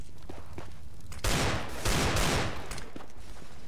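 Desert Eagle pistol shots ring out in a Counter-Strike match on Dust2, two loud, sharp blasts about half a second apart, with a dense burst of gunfire noise between them over steady background game ambience and faint footsteps.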